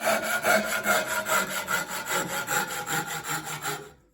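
A hand saw cuts through wood for a spatula in a steady run of about fifteen rhythmic back-and-forth rasping strokes, close and clear with no talking, stopping abruptly near the end.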